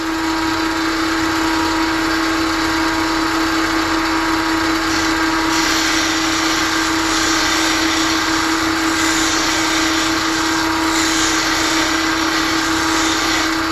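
Bench grinding wheel sharpening a skew paring chisel, a loud steady motor whine with a high grinding hiss that swells in bursts as the steel is pressed to the wheel, with no talking.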